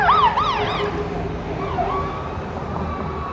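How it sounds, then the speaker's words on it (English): A fire truck's wailing siren sweeps up and down loudly at first, then fades and recedes over steady traffic rumble as the truck moves away. "It's a fire truck heading that way."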